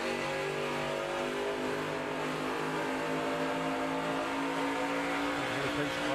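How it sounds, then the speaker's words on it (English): A NASCAR Nationwide stock car engine roars steadily at close range during a race at Nashville, its note easing slightly as the driver lifts off the throttle, with the hum of other cars around. "He lifts off the throttle to give the 18-car a spot to get in line."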